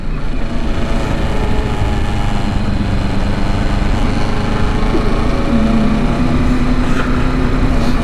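A motorcycle engine drones loud and close while climbing Mt Diablo in a storm, holding a steady, unbroken throttle note throughout with no voices.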